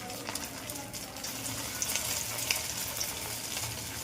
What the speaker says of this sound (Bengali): চলো একটা একটা করে ভাজতে দিয়ে দিলাম আমি